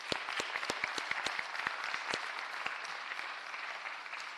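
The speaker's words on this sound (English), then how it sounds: "Round of applause to our past award winners." A small audience at a public works board meeting claps for past award winners, a few sharp distinct claps standing out at first, then a softer, steady patter of applause that carries on throughout.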